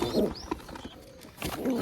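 Four or five pigeons kept for sale, soft low cooing calls near at hand, in short bursts at the start and end with faint rustling between.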